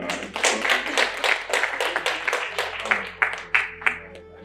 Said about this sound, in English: just please clap for her as we are.